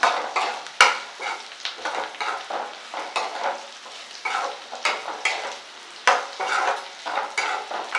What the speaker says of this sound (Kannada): ಇದೊಂದು 5 ನಿಮಿಷ ಸ್ವಲ್ಪ ಫ್ರೈ ಮಾಡ್ಕೊಂಡ್ಬಿಡ್ತೀನಿ ತೆಂಗಿನಕಾಯಿ